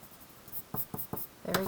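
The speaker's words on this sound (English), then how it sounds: "I'm going to erase the pencil lines" An eraser rubs out pencil lines on paper in four quick back-and-forth strokes, followed by a louder, longer scrub, close and alone without talk.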